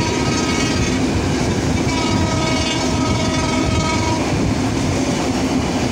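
Shah Fateh Ali passenger train running alongside, its loud continuous rumble and clickety-clack rolling on, with a sustained horn tone sounding through the middle and then fading out, no voices.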